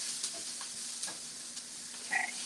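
Turkey meatballs frying in a pan for a spaghetti squash dinner give off a quiet, steady sizzle with soft crackles and small pops throughout.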